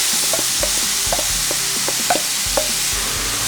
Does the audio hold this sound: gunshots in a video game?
no